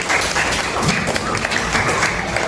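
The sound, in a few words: class applauding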